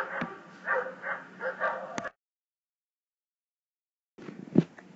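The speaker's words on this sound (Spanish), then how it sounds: "Los perros hacen ruido." A dog barks in a quick series of close, loud yips and woofs, then falls silent before a few more bursts follow.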